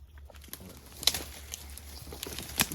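A ruffed grouse flushes on a frosty morning hunt, with a few brief, sharp wingbeat bursts over quiet woodland hum, fairly close and standing out from faint background noise, with no voices.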